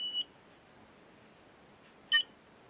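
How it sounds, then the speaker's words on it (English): Two short, high-pitched electronic beeps, one at the very start and another near the end, separated by quiet background hiss. "Listen to it beep."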